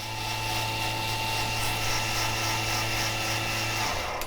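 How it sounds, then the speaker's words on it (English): Electric servo whine from the flaps of a P-51 Mustang replica aircraft extending and then retracting, a steady close mechanical drone that cuts off near the end. "So let's put our flaps down and see this extend. There it goes. And let's retract our flaps."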